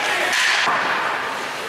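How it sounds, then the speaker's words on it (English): During a championship hockey game, a puck bounces off the high part of the glass, giving a single sharp slap that rises briefly above loud, continuous arena noise. "Bounces off the high part of the glass."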